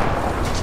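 A heavy burst of gunfire and artillery from the Call of Duty Modern Warfare 2 video game, a single dense, booming blast with a deep rumble, loud and close.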